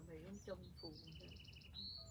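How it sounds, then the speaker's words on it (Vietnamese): Birds sing in the afternoon quiet on a mountain, soft steady chirps and a trilled run of repeated notes, faint and distant, with a voice speaking at the start. "có tiếng chim hót đều đều."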